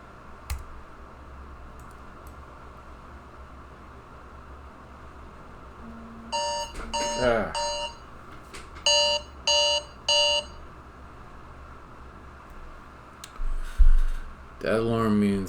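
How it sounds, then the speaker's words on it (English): An alarm clock beeps in a series of short, evenly spaced bursts at moderate level, with some keyboard clicking and light background noise before and after. "That alarm means that I need to order some food."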